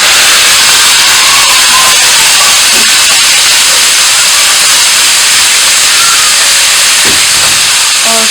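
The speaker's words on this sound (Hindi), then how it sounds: "अब इसमें मैं डाल दूँगी कीमा" Minced meat hits hot oil with cumin in a pan for keema karela, a loud, dense, continuous sizzle and hiss filling the whole stretch with a few faint clinks.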